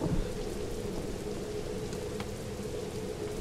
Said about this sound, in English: Oh, God, thunder, lightning.